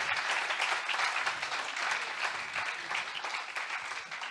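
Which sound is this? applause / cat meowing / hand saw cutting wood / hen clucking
applause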